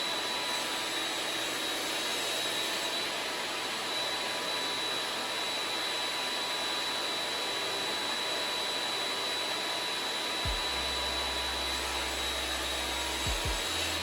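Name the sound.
saw with crosscut sled cutting a wood section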